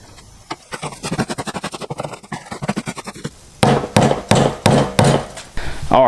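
Homemade deer block feed being mixed with syrup, giving a series of close scraping and thudding strokes in an uneven rhythm, growing louder and heavier in the second half.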